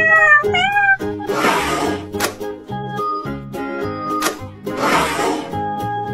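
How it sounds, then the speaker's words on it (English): A cat meows several times over a musical backing, the calls fairly loud and close, with gaps of music between them. "cat"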